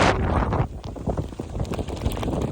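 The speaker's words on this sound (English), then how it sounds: "The wind picked up" Hurricane Helene's wind gusts at Apollo Beach near Tampa buffet the microphone in a continuous loud, rough roar that surges and dips unevenly, with no voices over it.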